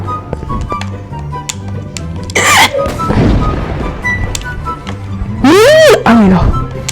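Explosions burst in Roblox Slap Battles amid game effects, with sharp booms and whooshing rising tones near the start and end, while people talk excitedly throughout.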